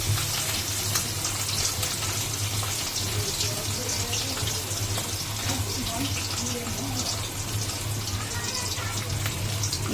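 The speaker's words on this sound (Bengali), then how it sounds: "দেখো হালকা করে ভাজবো এই যে হালকা করে ভাজবো মাছটা ছেড়ে দিলাম" Hilsa fish coated in salt and turmeric fries lightly in a pan, a steady close sizzle and crackle throughout with a voice talking over it.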